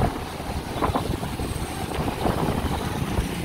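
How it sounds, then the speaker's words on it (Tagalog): Strong typhoon wind roars in uneven gusts, a loud, rumbling wash rising and falling close to the microphone, with no voices. "Masarap pakinggan yung sounds ng hangin."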